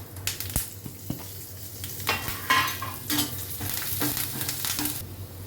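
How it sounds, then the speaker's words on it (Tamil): Cumin, asafoetida, dried chilies, curry leaves and garlic fry together in hot oil, crackling and sizzling close up while a utensil stirs and scrapes the pan in quick knocks. "ஜீரகம் பெருங்காயம் காஞ்ச மிளகாய் கருவேப்பிலை பூண்டு எல்லாத்தையும் ஒன்றா போட்டு நம்ம வறுக்க ஆரம்பிக்கலாம்"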